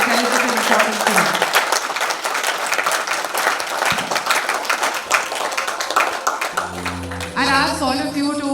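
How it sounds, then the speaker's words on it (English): Loud, sustained audience applause fills a film trailer launch event for Banda, dense clapping continuing throughout, with a swelling musical sting rising near the end. "can we please continue to keep clapping for the people who are responsible for bringing us this very, very intelligent and important film"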